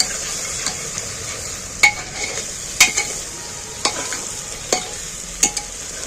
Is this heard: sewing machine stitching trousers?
no